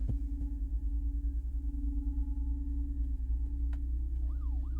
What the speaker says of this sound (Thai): เสียงรถตำรวจมาแล้ว